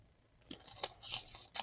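Thin Bible paper pages handled and turned up close, giving a few soft, crisp rustles and flicks at moderate loudness with no talk.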